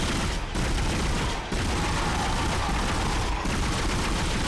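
Sustained automatic assault rifle fire in the Dead Space video game, a dense and loud roar of rapid shots broken by a few brief pauses.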